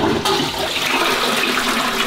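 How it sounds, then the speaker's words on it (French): Toilet flushing in a Tokyo apartment, a loud close rush of water that starts abruptly and roars steadily throughout, no voices. "Quand vous tirez la chasse"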